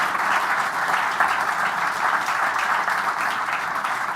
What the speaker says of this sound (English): So the first thing I'd like to do is to really applaud the panelists.